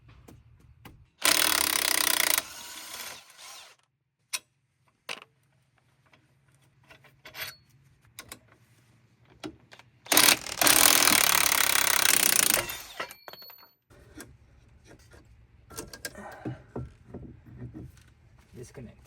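Van strut support bolts being removed with power tools during a Falcon Rally strut install, two long loud bursts of rasping impact-tool noise separated by quieter clanks and handling sounds, with low engine or compressor hum in between.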